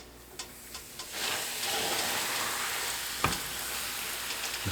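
Chuck roast searing in butter in a cast iron skillet over medium heat, a sizzle that swells to a steady hiss after a few light knocks, with a sharp clack near the end.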